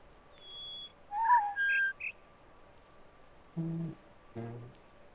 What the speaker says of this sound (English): But then it's the bird chirp.